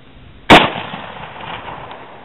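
A single sharp, loud rifle crack comes from a Marlin 336Y fired at a chunk of watermelon, followed by a short decaying echo and quiet outdoor background.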